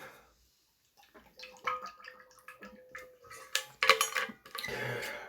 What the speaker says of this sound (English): If I can open this bottle.